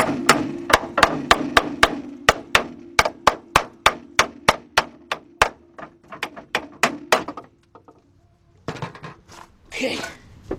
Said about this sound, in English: got a little hammer.